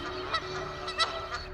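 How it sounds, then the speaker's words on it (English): Honking calls of geese and other waterfowl at the San Pablo wildlife refuge between Vallejo and Fairfield, several overlapping honks repeating at a moderate distance over a steady background hum. "The San Pablo Wildlife Refuge, home to millions of ducks and migrating waterfowl."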